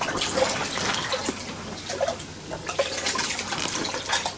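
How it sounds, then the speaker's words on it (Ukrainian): Fertilizer solution stirred in a watering mug for seedlings, a continuous close swishing and sloshing of water with small splashes, heard alone without speech. "Ось такий кухлик у нас для поливу є. перемішуємо, розмішуємо, перемішуємо, розмішуємо."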